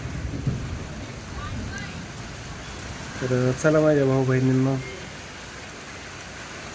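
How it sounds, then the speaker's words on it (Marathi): Steady rain hisses throughout, with a person talking loudly for a few seconds in the middle. "पाऊस सुरू झाला"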